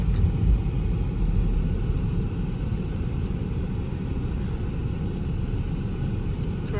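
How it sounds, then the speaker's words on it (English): Street traffic on a hot day in Bakersfield, California, a steady low rumble of passing vehicles, continuous and fairly even, heard from the roadside. "Traffic."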